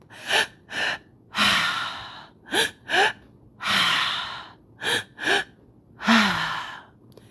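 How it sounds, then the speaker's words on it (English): Three-part breathwork breathing: a series of loud, close inhales and exhales, with short sharp sniffs alternating with longer, rushing breaths in a repeating pattern and no speech. "breathe into your heart, and then you release a three-part breath"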